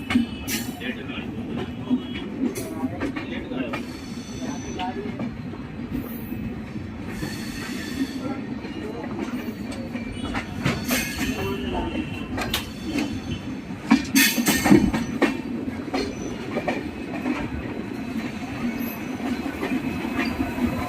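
Train pulling into Moradabad railway station on a Sealdah to Jammu service, with steady low rumble, wheel screeches and clatter throughout and a louder burst of squealing near the end.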